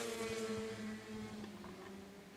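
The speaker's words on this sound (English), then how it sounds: "The Pro Sprints are racing" Pro Sprint race cars roaring past down the front straightaway at a speedway on opening night, a steady loud engine drone with shifting pitch and no talk over it.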